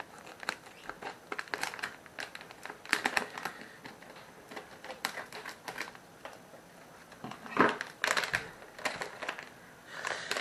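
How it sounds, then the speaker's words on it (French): Crisp snipping and crinkling of plastic packaging being cut with scissors, a few sharp cuts in bursts with pauses between, close and fairly quiet. "On va prendre les ciseaux, ça va aller mieux."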